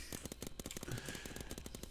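Rapid, evenly spaced pops from paintball guns firing from a spawn area in Roblox Paintball. The faint, quick shots arrive in a fast rhythmic burst that lasts under two seconds.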